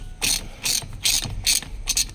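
A ratcheting puller being tightened on a car steering wheel, five quick bursts of metallic clicking in a steady rhythm, close and alone.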